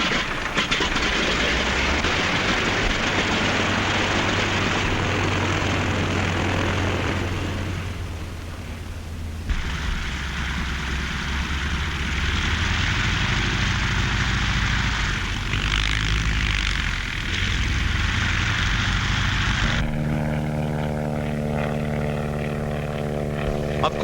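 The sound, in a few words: vintage propeller airplane engine running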